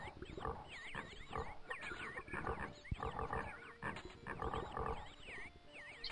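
Pigs at a pig farm in Die Siedler 2, a faint run of grunting and squealing calls repeating irregularly over quiet game ambience.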